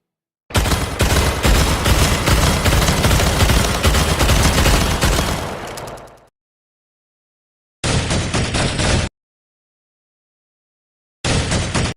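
Loud, dense sustained gunfire in the video game Dark Planet, a roughly five-second continuous barrage that fades out, followed after silence by two shorter abrupt bursts.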